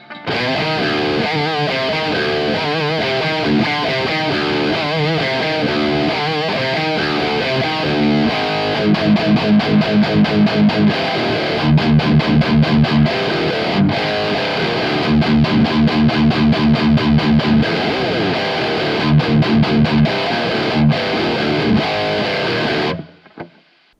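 Heavily distorted electric guitar through a Neural DSP Quad Cortex with an SD1 boost capture plays chugging palm-muted riffs and chords, loud and dry, then stops abruptly near the end.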